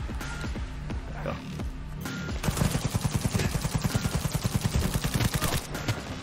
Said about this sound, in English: Guess we'll just use a gun.